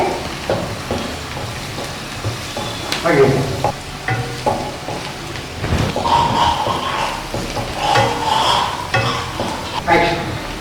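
Paneer korma base frying in a pan with salt while being stirred, a steady crackling sizzle with busy rattling stir noises throughout, fairly loud and close, with no talk.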